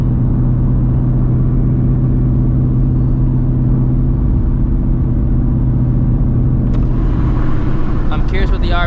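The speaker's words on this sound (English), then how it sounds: "I'm gonna do a third gear hit first, just to go ahead and test things out" A supercharged Shelby GT350 on Nitto NT555R2 drag radials pulls hard in third gear, its engine a loud, continuous, droning roar heard close from inside the car the whole time, with a brief extra rattle near the end.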